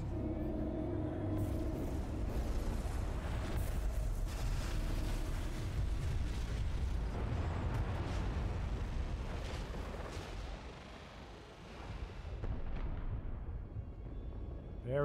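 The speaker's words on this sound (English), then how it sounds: "The Omni Cannon's ready to fire on your command." An Omni Cannon in Star Wars: The Old Republic fires a sustained barrage. Heavy explosions boom and rumble one after another at close range, loud and dense, then ease briefly before picking up again.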